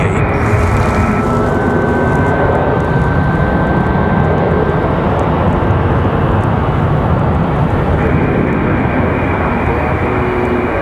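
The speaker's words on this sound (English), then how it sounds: "We've got an American 737 getting a move on." An American Airlines Boeing 737 jet taxiing and departing at Raleigh-Durham International Airport, a loud, steady engine roar and rumble that holds without letup, with a thin whine running through it.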